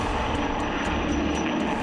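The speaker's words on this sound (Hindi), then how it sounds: "पहले स्वागत के लिए रूस का सुखोई उड़ा।" A Russian Sukhoi fighter jet roars past overhead during a welcome flyover, a steady, dense engine rumble with no voices.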